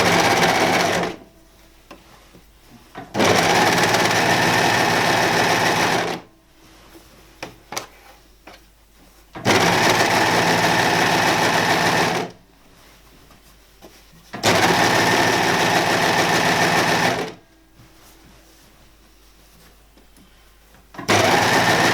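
A serger sewing a spring dress and trimming the fabric edge with its built-in knife, close and loud in four fast whirring bursts of a few seconds each, separated by quiet pauses.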